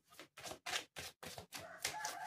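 A rooster crows in a series of choppy bursts, loud and close, with short silent gaps between each segment.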